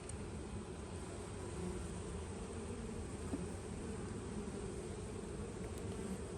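Honey bees from a package colony buzz steadily at an open hive during a frame inspection, a dense, continuous close drone with no talk.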